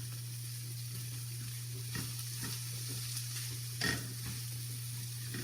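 An egg mixed with sprinkled shredded cheese sizzles steadily in a hot pan, with a few sharper spits and pops breaking through the continuous frying hiss.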